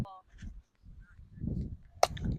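An aluminum bat cracks against the ball at a youth baseball game, one sharp, loud ping outdoors, with an announcer talking before and a crowd murmuring after.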